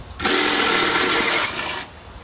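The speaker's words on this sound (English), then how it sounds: "Get these 3/8 bolts off of here." A power tool whirs loudly for about a second and a half while removing 3/8 bolts from a Troy-Bilt 6.75 HP self-propelled mower, with a high steady whine that cuts off abruptly.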